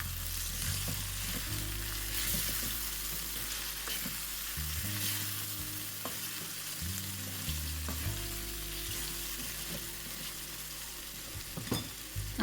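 Moth bean (matki) bhaji frying and sizzling in a pan as spices are stirred in, a steady close sizzle with scraping stirs throughout and no talk.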